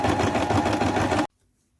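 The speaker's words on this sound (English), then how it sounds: "now we'll attach the little sleeves right sides together and sew them down there." Sewing machine stitching sleeves onto a top, a loud steady rapid whir lasting just over a second before stopping abruptly into silence.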